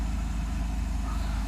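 A Mercedes 600SL engine idles steadily just after start-up on a near-freezing morning, a constant low rumble with no revving and no talk.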